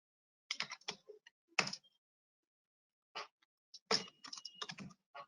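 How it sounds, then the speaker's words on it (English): Commands are typed on a computer keyboard in short bursts of quiet clicking keystrokes separated by pauses, close and faint, with no talking. "You can see, right, the commands that I'm typing"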